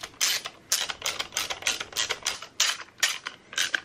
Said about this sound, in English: Just line up your holes and get these screws in there.